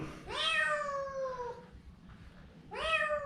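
A cat down a well with stone steps meows twice, two loud drawn-out cries with a pause between, fairly close and echoing, with no voices.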